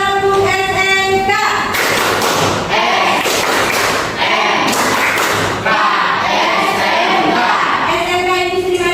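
A class of vocational high school (SMK) students performing a rhythmic group clapping chant, loud heavy claps in patterned bursts mixed with shouted voices, close and energetic.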